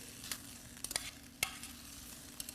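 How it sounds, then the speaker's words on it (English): Chopped butternut squash, carrots and turnips are stirred to coat in glaze, giving quiet close scraping with a few sharp utensil clicks over a low steady background, no talking. "And then we're going to mix this up some more just to get them all covered"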